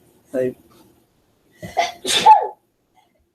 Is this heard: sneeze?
yes